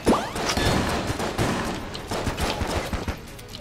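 Rapid gunfire in the Enter the Gungeon bullet-hell game, dense bursts of shots and impacts in quick irregular succession, fairly loud, with game music beneath and no voices.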